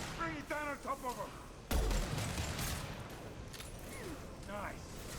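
A sudden burst of video-game gunfire aimed at a loose fuel tank breaks out and keeps rattling on at moderate volume, while voices talk both before and over the shooting.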